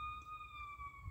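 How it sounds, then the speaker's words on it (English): A paramedic ambulance siren wails faintly in the distance, a thin, steady tone over low background hum. "If you guys hear the sirens in the background,"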